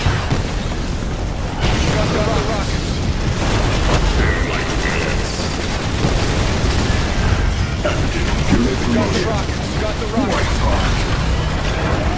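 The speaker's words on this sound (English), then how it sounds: "Target under attack. Severe explosion detected." Explosions and combat effects from the real-time strategy game Command & Conquer 3: Kane's Wrath, loud booms and bursts over continuous mechanical battle noise, with intermittent voice announcements.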